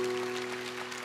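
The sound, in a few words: congregation applause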